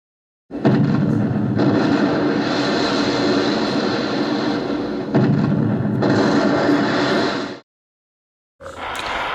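A World War II battleship in a video game fires salvos from its 15-inch naval guns, producing loud, sustained roaring booms that rumble on for several seconds, drop to silence, then start again.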